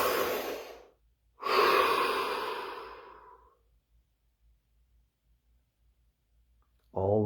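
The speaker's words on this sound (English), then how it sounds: "Take a deep breath." A person takes a slow, deep breath during a guided relaxation: a breathy inhale, a brief pause, then a long, audible exhale that fades into quiet before a voice begins at the end.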